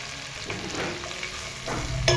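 Spices roasting in a hot pan for a traditional Marathi Bhogi mixed vegetable dish, giving a steady sizzle with scraping stirring strokes, close and continuous.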